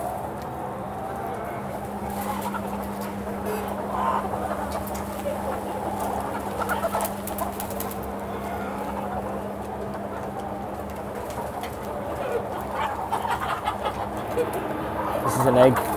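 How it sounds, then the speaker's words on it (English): Chickens cluck and murmur throughout a UK parent breeder shed, a dense flock chorus under a steady ventilation hum, with occasional louder clucks and a voice talking faintly in places. "so this is a UK parent breeder shed."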